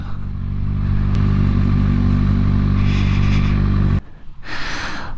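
A 2020 Kawasaki Ninja ZX-6R 600cc sport bike is ridden with its engine droning loud and steady, then a sudden cut as the rider shifts, followed by a fresh rising rev.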